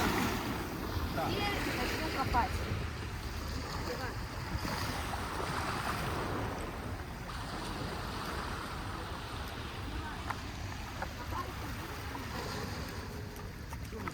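Sea waves wash onto a beach in Hurghada, making a continuous rushing surf sound with wind buffeting the microphone and faint voices in the background.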